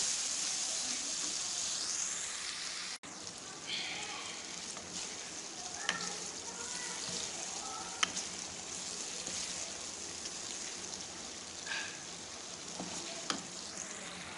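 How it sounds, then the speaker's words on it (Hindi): Tomatoes fry in a pan for dal khichdi, giving a steady close sizzle and crackle with occasional scrapes of stirring and small pops, and a voice speaking faintly at times. "हमने फ्राई करना है इनको।"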